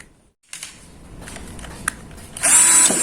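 A Ryu RCD 12V cordless drill whirs steadily while driving a thick 4 cm bolt into a thick teak wood beam, then surges louder and higher near the end, close and alone with no talking.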